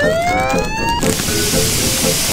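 A fire truck siren in a children's PC game sweeps upward in pitch for about a second, then gives way to dense, hissing game noise with rumbling effects underneath.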